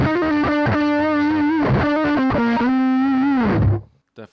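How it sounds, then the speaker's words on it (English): An electric guitar run through a Boss Blues Driver overdrive pedal plays a gritty, distorted melodic phrase with bent, sustained notes, loud and upfront, then cuts off abruptly at the end. "And that, of course, that's the blues driver."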